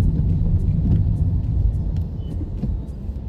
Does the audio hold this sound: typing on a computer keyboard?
no